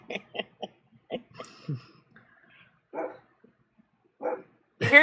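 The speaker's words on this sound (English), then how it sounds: "I don't know what she's barking about." A dog barks in short, irregular bursts: a quick string of several yaps, then scattered single barks and a whine, fairly close and loud against a quiet room.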